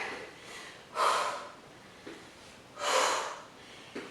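Heavy breathing from a person exercising in a plank with knee-in twists during a lower body workout: two strong, breathy exhales about two seconds apart, close, with soft inhales between and no speech.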